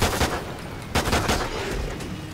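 Rapid pistol gunfire fitted with a muzzle brake in the Call of Duty Ghosts Extinction game mode, a burst of sharp shots at the start and another cluster near the middle over a constant busy game background.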